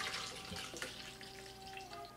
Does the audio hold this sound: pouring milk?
yes